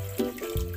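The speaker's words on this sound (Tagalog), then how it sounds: "Ayan, dagdagan natin ng tubig." Tap water runs into a pressure cooker pot holding beef for Filipino nilagang baka, a short close splashing pour with small gurgles and no talking.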